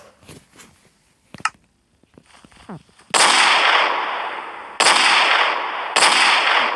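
A Golden Desert Eagle pistol fires three loud, booming gunshots in a video game, each with a long decaying tail, after a few quieter clicks and handling sounds.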